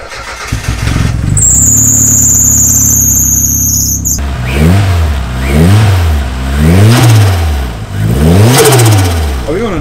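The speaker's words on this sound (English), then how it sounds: "We can actually hear the car." A turbocharged Mazda MX5 engine revs hard in repeated rising and falling sweeps, loud and close, after a steady idle with a high whine at the start.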